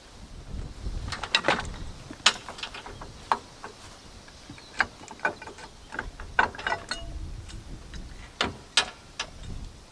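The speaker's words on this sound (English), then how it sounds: "We then need to remove the wheel clamp and the hitch lock." Metal clicks, ratcheting and scattered knocks come from a wheel clamp and hitch lock being unlocked and removed on a touring caravan, close by and irregular against a quiet background.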